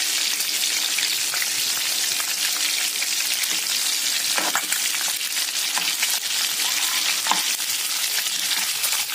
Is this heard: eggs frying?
yes